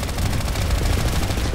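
Sustained automatic gunfire in the sci-fi shooter Planetside 2, a dense loud rattle of rapid shots continuing without pause.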